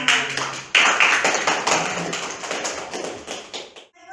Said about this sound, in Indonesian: Beri aplaus untuk Vicky telah menampilkan hasil dengan baik